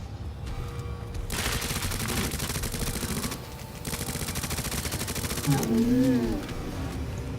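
Rapid bursts of Uzi submachine gun fire in the Resident Evil 2 Remake, loud rattling volleys repeating over several seconds with short pauses, followed by a creature's rising growl near the end.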